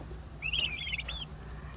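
A single faint, high chirp from young turkeys and chicks rises and trills for under a second over a low, steady background hum.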